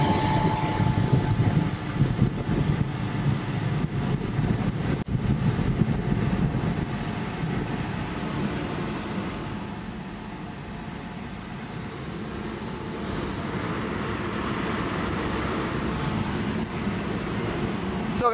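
A SubSonex personal jet heard from inside in flight: a continuous loud, broadband engine and wind roar that holds steady throughout with only slight swells.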